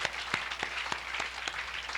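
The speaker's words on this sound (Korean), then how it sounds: "그냥 박수 드립니다" Sparse applause from a church congregation during a Sunday service, individual claps spaced roughly every quarter second over a steady murmur, fairly quiet and distant.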